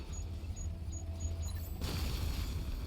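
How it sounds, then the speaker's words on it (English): A low rumbling boom from an explosion in the video game Batman: Arkham Knight, heavy low-end roar sustained under game ambience with a brighter burst of noise near the end. "The explosion disabled the main."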